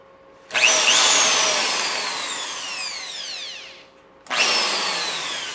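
Power drill boring a series of test holes for an earth anchor trap puller kit, done by hand without a drill press: a loud, sustained whine that slowly falls in pitch as the bit bites, stops, then a second hole starts.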